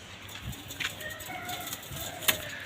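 Pigeons kept in a loft as breeding pairs give soft, low cooing under faint background noise, with a few brief knocks and a person's voice in the background.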